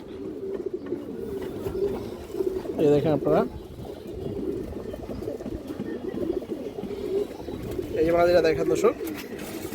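Bagha pigeons on a farm cooing in low, throaty rolls, two clear coos standing out against a constant murmur of birds, while someone talks over them.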